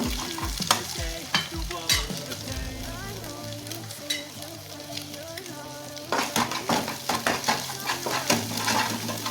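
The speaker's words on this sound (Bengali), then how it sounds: "আমি একটু ডিম বাইজে নিতেছি" Egg fries in hot oil in a pan for a home meal, a constant close sizzle broken by scraping spatula strokes and clinks against the pan, denser toward the end.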